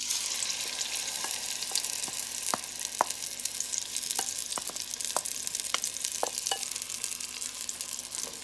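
Chicken with squash and spices cooking in a pot, a steady close sizzle with frequent small crackles and pops throughout, no one speaking.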